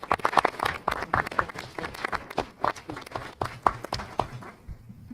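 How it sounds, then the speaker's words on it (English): A round of audience applause for staff members at an evening event honoring young artists, a close burst of clapping that fades out toward the end. "How about another round of applause for our wonderful staff members?"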